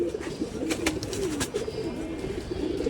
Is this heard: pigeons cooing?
yes